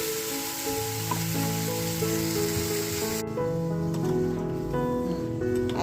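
Fish and potato curry, seasoned with salt, turmeric and coriander powder, sizzles steadily in a pan, a continuous loud frying hiss with no talk over it.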